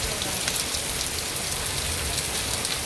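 Dense, steady patter of raindrops and hail striking surfaces outdoors in a village, an even close hiss of impacts with no voices.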